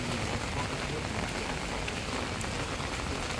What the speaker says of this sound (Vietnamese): Bây giờ là mưa vẫn còn đang đổ về rất là nhiều.